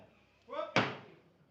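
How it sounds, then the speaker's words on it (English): An auctioneer's hammer strikes once at a livestock-style sale, a sharp loud crack that rings off briefly, just after a short burst of the auctioneer's voice. "the hammer's coming up at 34 and 20"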